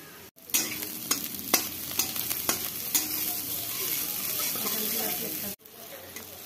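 Ginger-garlic paste, spices and green chillies fry in hot oil in a pan while mutton curry is cooked, giving a steady close sizzle broken by repeated stirring scrapes, with a short pause near the start and near the end.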